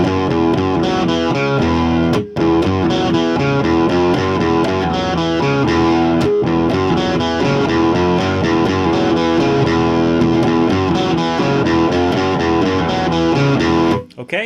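A bridge riff played on an electric guitar through a POG octave pedal, a dense, continuous distorted octave-doubled line with steady driving rhythm and a brief dropout near the start and end.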